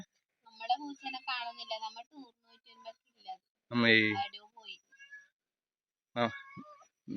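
A cat meows a few times, one long drawn-out cry standing out, while people talk quietly nearby.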